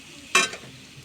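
Drumstick pieces being stirred into spice masala in a pan make a single short scrape and sizzle burst, and a quiet low background surrounds it.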